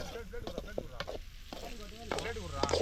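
Onions and tomatoes sizzle and fry in a pan at a toddy shop, a soft crackle heard under intermittent speech with occasional stirring clinks.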